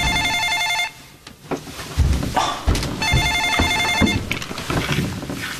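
A home telephone rings twice in a quick electronic burst. Thumps and household clatter from a family kitchen sound between the rings.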